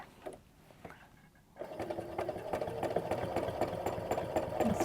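A sewing machine doing free-motion quilting on a stipple meander pattern. After a quiet start with a few light clicks, it settles into a fast, steady mechanical whirring and rapid stitching rhythm that lasts to the end.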